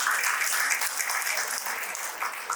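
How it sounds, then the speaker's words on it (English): Audience at a musical extravaganza show applauding actor Ashutosh Rana, a steady, fairly soft roll of many hands clapping at a distance. "A huge round of applause for Ashutosh Rana."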